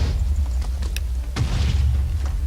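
A muffled boom bursts out over a constant low rumble in Minecraft Bedwars, with a few smaller pops and crackles around it.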